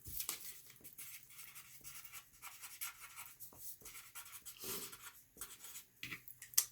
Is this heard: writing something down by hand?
yes